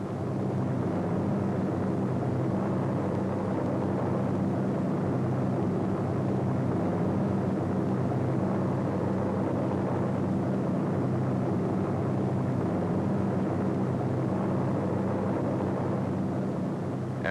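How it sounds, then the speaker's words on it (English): Several C-47 transport planes and towed gliders pass overhead on a 1944 World War II mission to Normandy, France, a steady, loud propeller-engine drone holding for the whole span with no voices. "As these gliders and their tow planes head into France, C-47s, which already have dropped their gliders, pass on their way back to England."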